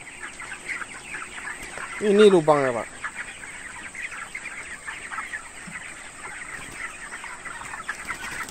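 Broiler chickens cluck and chatter in the background of a busy barn on a poultry farm, with one louder squawk, while someone speaks briefly in Indonesian.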